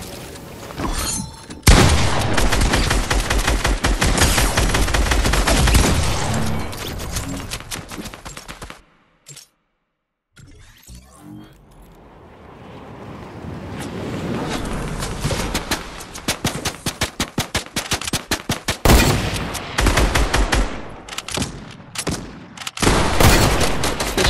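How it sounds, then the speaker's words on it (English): Rapid gunfire from the Fortnite video game, with dense bursts of shots and impacts that stop in a brief silent gap midway and then resume loud and steady. "Shot right over my head."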